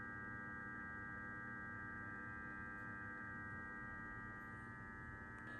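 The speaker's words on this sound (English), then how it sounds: "If you listen closely, you could hear that pump, that electric pump is turning on." The electric coolant pump runs in a BMW E46 with a faint, steady electrical hum that stays even throughout.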